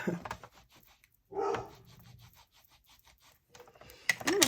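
Dogs barking nearby in short bursts with pauses between, a couple of sharper yelps mixed in, plus some scratching sounds.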